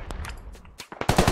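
Gunfire in the SquadOps video game: a quick burst of sharp, loud shots in uneven succession over about a second and a half, crisp and close.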